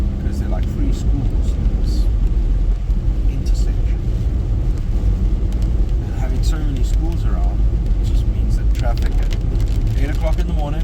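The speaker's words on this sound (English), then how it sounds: "there has been crazy traffic every single morning for the last 5 years straight" Steady morning road traffic at a busy school intersection, a continuous low rumble of passing cars and engines close by, with a voice speaking over it throughout.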